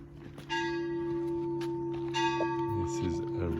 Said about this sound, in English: The bells are ringing in the church.